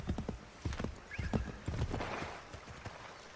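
Horse hooves clip-clop in a steady rhythm alongside a neigh, in the game Assassin's Creed III Remastered, near and clear with no talk over it.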